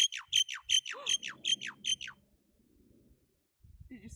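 A talking bird gives a run of about eight loud, harsh, evenly spaced squawks close up. A low rumble follows and then a brief pause, and a faint further call comes near the end.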